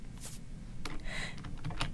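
Typing on a computer keyboard produces a few scattered, close key clicks over a quiet background, with no speech.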